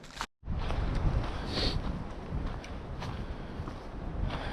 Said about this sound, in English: I've been hearing this wind for a while